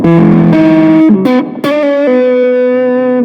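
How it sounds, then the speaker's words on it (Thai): Electric guitar played through a vintage Boss OS-2 pedal on its overdrive setting, sustained mid-heavy driven notes and a few chord changes ringing loud and close with a brief choppy break in the middle. "โอเวอร์ไดจะมีเสียงกลางเยอะแล้วก็ล้วน"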